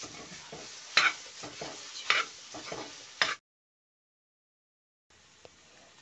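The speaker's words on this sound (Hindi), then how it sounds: "कम से कम 10 मिनट तक हम इसको ऐसे ही चलाते रहेंगे।" Grated carrots for gajar ka halwa being stirred and fried in a pan, with rhythmic scraping strokes and soft sizzling up close for about three seconds, then a stretch of silence before a faint return of the frying sound.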